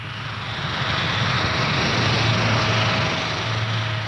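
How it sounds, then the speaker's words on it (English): A Fokker Maritime Enforcer aircraft taking off on a training flight, its engines producing a loud, steady roar with a low droning hum that stays constant across the clip and has no voices over it. "the Enforcer takes off on a training flight to the range"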